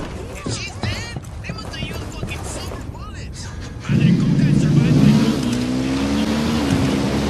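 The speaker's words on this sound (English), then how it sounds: "I'm hearing engine noise." A vehicle engine in the Ghost Recon Wildlands video game drones through the scene and swells louder and closer partway through, under raised voices and a tonal whine.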